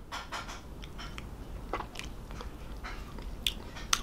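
Repeated crisp bites and crunchy chewing on a Barratt Wham Rocket ice lolly, close and fairly quiet, a series of short crackly snaps with no talking.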